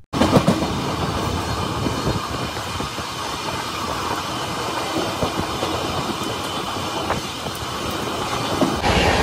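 A passenger train rolls along the rails with a steady rumbling roar and faint rhythmic clatter, heard from inside the carriage, continuous and fairly loud for the whole stretch.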